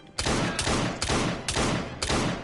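Rapid gunfire in Assassin's Creed Syndicate, a run of about five loud, evenly spaced bursts of shots, each a sharp crack trailing into dense rattling noise.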